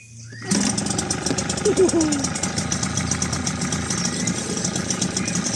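A 1998 Mercury 5 HP long-shaft outboard motor starts abruptly, then runs at a loud, close, rattling idle with a rapid steady beat, and a voice is briefly heard over it.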